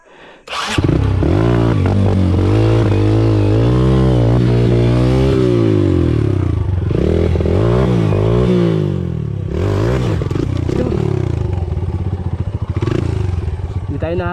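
A motorcycle engine running loud and close on a mountain trail on Mt. Tapulao, revving up and down continuously, with some rattling and faint voices underneath.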